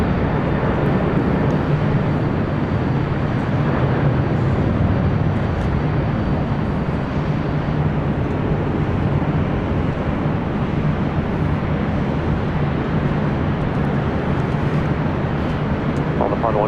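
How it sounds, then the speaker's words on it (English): Cargo jets taking off from the south side of LAX, a broad continuous roar with wind buffeting on the microphone, steady and fairly distant throughout, with radio chatter and talk mixed in. "Cargo jets taking off there on the south side."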